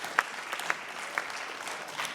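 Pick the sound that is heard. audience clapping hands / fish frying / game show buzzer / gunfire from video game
audience clapping hands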